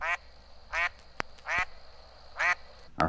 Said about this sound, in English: The low, questioning quacks of a male mallard